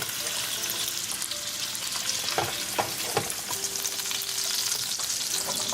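Shrimp cooking together in a hot pan for a shrimp potato curry give off a loud, continuous sizzle, with a few sharp stirring scrapes and clicks near the pan and no voices.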